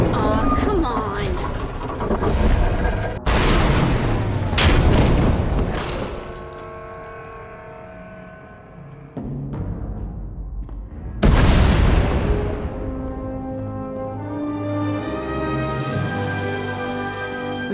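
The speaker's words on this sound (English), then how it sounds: "We heard explosions." Explosions in the video game Star Wars: The Old Republic come as several heavy booms and crashes with rumbling debris and decaying tails, loud and close, spaced across the clip with a lull between them.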